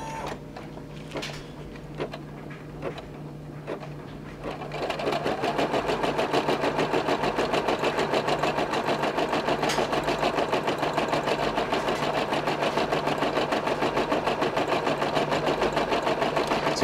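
An embroidery or sewing machine stitches a patch, starting after a few quiet clicks and button presses. It then runs steadily with a fast, even mechanical rattle and hum at close range, with no talking.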